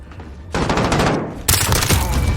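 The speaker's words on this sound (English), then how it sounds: "And then you can go up to the next guy and shoot him." Rapid close gunfire from a Renetti pistol in Modern Warfare multiplayer, dense bursts of sharp shots in two loud volleys with a brief pause between.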